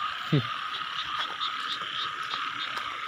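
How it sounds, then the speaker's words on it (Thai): Frogs and banded bullfrogs croak in a dense nighttime chorus during rain, a continuous trilling drone with repeated nearer croaks, and a brief human sound near the start. "เราได้ยินเสียงอึ้งห่องได้อยู่แถวนี้"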